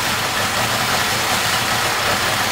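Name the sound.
Yamaha XS1100 motorcycle engine idling roughly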